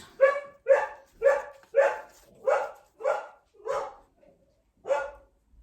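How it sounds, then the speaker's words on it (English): A dog barking after the postman has called, eight loud, close barks in a fairly even rhythm with a short pause before the last, and a faint whine in between. "Sorry, that's my dog. The postman's just been."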